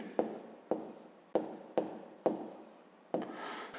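A pen writes a maths equation by hand, with six crisp scratchy strokes at an uneven rhythm, each one starting sharply and then fading, close and quiet with no talking.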